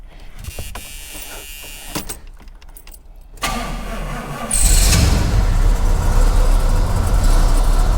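A 1980 Pontiac Grand Le Mans with a 350 V8 starts for the first time. Clunks and a whirring starter crank come first, then the engine catches and settles into a loud, steady rumbling idle.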